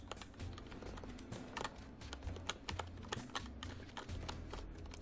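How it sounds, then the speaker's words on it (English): Rapid, irregular clatter of keys on a computer keyboard sitting right beside the microphone, close and crisp over a low background hum, with no talking. "You guys like the sound of my keyboard right there next to the microphone?"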